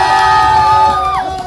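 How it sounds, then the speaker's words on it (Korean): Loud, sustained crowd cheering at a protest rally against prosecutorial oppression, a dense continuous roar with a steady horn-like tone running through it that bends near the end. "박수 부탁합니다."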